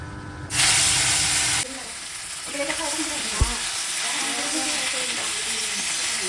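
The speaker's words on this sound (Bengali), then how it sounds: "এখানে তেল বসিয়ে দিয়েছি এখানে মাছগুলো ভেজে নেব" Prawns dropped into hot oil give a sudden loud burst of sizzling, which settles into a steady frying hiss under a speaking voice, with one sharp knock partway through.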